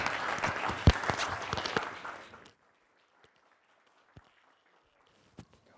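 An audience at a university visiting-artist lecture breaks into warm applause for an arriving speaker, dense clapping that fades out and leaves near silence with a few isolated thumps.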